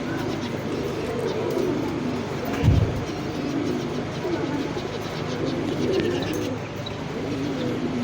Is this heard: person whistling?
no